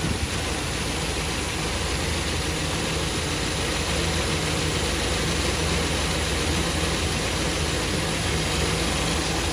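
Cammed single-cab pickup truck engine idling steadily and close, a dense continuous low rumble with a slight exhaust manifold leak, running alone without talk.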